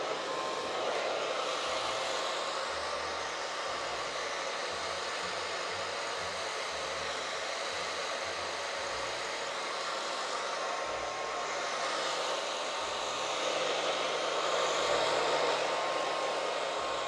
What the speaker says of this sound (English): So I wanted to use the hair dryer to speed up the process a bit.